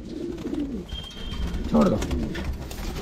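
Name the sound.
Kabuli pigeon cooing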